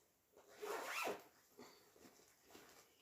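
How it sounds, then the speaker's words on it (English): A zipper on a project bag being pulled open in a couple of quick, rasping strokes, then a few softer scratchy rustles of fabric close by. "sorry, zipper noise."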